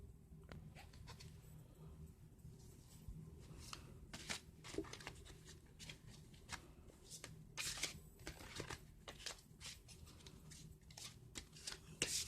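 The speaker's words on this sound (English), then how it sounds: "So I'm going to shuffle and lay out the spread." Soft, quick riffling and flicking of tarot cards being shuffled repeats in bursts, close and quiet, with papery taps scattered throughout.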